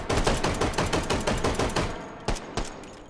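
Rapid bursts of automatic gunfire from a first-person shooter game, a steady rattling stream of close shots that breaks into a few separate single bangs near the end, with no talk.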